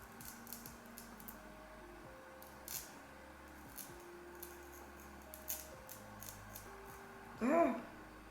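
Scissors snip through the lace edge of a red wig in a few soft, sporadic cuts near the mic, with a steady low hum underneath and one louder rustle of handling toward the end.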